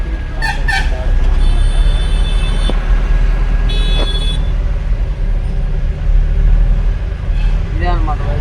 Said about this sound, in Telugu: ట్రాఫిక్ అయితే మామూలుగా లేదు.